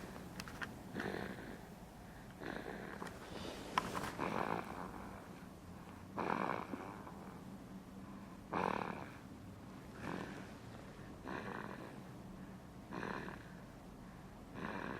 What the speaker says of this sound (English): We just think the snoring is funny.